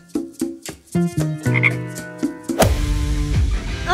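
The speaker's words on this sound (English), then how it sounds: "Oh! A frog!" A frog croaks in a quick run of close, loud, deep ribbits, then a burst of noisy rustle follows as the croaking trails off.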